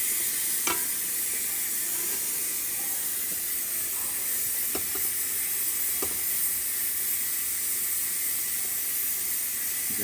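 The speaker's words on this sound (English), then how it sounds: "this is just adding the couscous" Couscous goes into a pot of boiling water for Moroccan cuscus, giving a constant close steamy hiss and bubbling, with a few faint scattered clinks and stirring scrapes.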